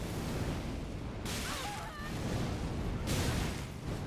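Birds honking in the video game Elden Ring, a few goose-like calls rising over a steady loud rumbling game ambience, with no talking.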